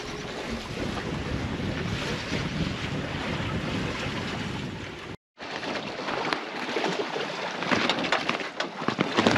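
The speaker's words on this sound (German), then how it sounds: "Die Segel schlagen." Wind roars across the microphone on a sailboat crossing the Pacific, with rushing water and irregular flapping of loose sail cloth in dying wind, briefly cut by a moment of silence.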